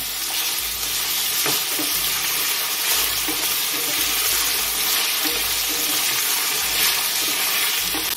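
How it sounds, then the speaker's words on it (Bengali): Pieces of elephant foot yam fry on a high-to-medium gas flame for a vegetarian yam and cauliflower dish, producing a loud, steady oily hiss with soft intermittent stirring knocks. "গ্যাসের ফ্লেমটাকে হাই টু মিডিয়াম রেখে ওলগুলো হালকা ভেজে নেব।"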